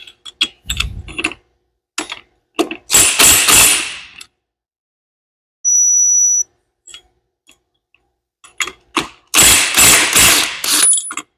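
A ratchet wrench clicks in short bursts while loosening the nut on a Yamaha IT175K motorcycle's clutch cover, with a brief whine in the middle and quiet pauses between strokes.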